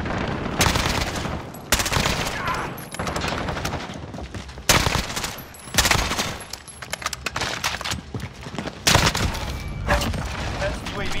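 Call of Duty: Modern Warfare gunfire: repeated loud bursts of automatic fire with sharp single shots and mechanical clicks between them, separated by brief lulls, with voices calling out in the mix.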